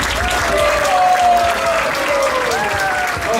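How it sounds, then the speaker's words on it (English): A theatre audience at a celebration breaks into loud, sustained applause for the actors of a play, a dense wash of clapping with some cheering mixed in. "let's give them a huge thunder applause, everyone"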